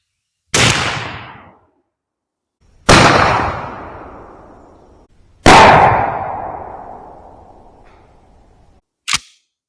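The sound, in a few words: 12 gauge shotgun firing Noble Sport No. 4 buckshot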